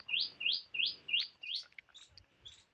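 Close, bright sparrow chirps repeat in a quick series of four or five calls, followed by softer scattered tweets.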